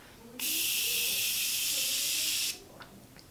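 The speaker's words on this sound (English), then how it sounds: "We're just gonna spray this down." A single long, loud hiss of facial setting spray misting, steady for about two seconds, with faint voices before and after.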